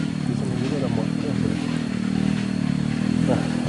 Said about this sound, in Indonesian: di sini juga ada motor